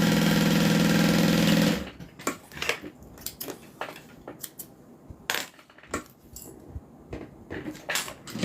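A domestic sewing machine stitches fabric in a steady, loud mechanical whir for about two seconds, then stops, leaving scattered clicks and handling taps of cloth and small objects.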